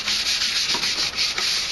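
A computer case is lightly sanded by hand with fine 400-grit sandpaper, giving a steady close-up scratchy rubbing with a quick back-and-forth rhythm and no talk.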